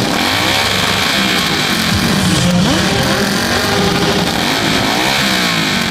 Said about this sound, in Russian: определили, чей байк рычит громче